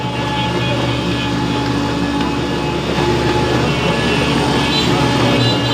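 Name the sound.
mustard oil mill machine running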